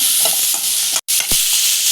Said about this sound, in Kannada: ಈಗ ಒಂದು ನಿಮಿಷ ಫ್ರೈ ಮಾಡ್ತೀನಿ